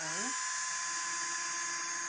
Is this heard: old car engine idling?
no